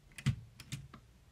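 Shift lock being pressed on a Remington Travel Riter portable typewriter, a few close mechanical clacks and knocks in quick succession, one sharp main thunk followed by lighter clicks.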